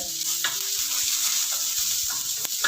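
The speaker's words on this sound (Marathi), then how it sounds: "लसूण देखील तेलामध्ये चांगला परतून घेऊया" Garlic fries in hot oil in a pan after chillies, giving a steady close sizzle with light stirring scrapes throughout.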